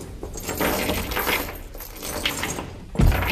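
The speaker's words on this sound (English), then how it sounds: "They were succeeded by a clanking noise deep down below, as if some person were dragging a heavy chain" Metal rattles and clinks in a continuous jangling clatter, like a heavy chain being dragged, ending with a heavier thud; no one speaks.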